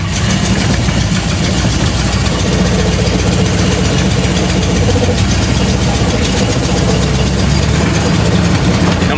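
A 52-year-old vintage Jeep Wagoneer engine runs loud and close, a dense, steady rumble with no pauses or changes in pace throughout.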